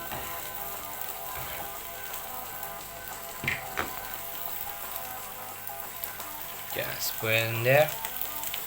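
Garlic and onions sizzle steadily in a frying pan as spaghetti goes in, with a brief clatter and a louder rising hiss near the end, under a short spoken remark.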